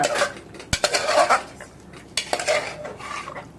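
Chicken frying in a little oil in a pan is stirred with a metal utensil, giving close, irregular clanks and scrapes against the pan over a faint sizzle.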